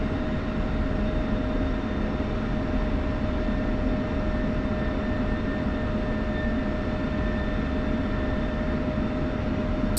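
Aircraft engine drone in a flight sim at night, a steady broadband roar with a faint constant whine, continuous and unbroken while the plane rolls along a rough, uneven taxiway.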